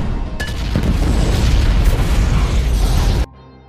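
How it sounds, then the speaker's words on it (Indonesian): A loud, sustained explosion in an action film as leftover cash is blown up, a dense roaring blast that rumbles steadily for about three seconds and then cuts off abruptly. "Sebelum meninggalkan lokasi ini, John meledakkan seluruh sisa uangnya."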